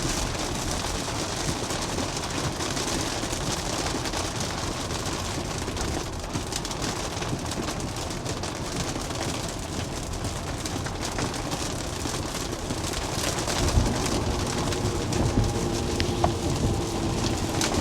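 Heavy rain pouring down on a car driving on Tesla FSD Beta v11.4.3, a dense, steady hiss of drops drumming on the roof and windshield throughout, with low road rumble underneath.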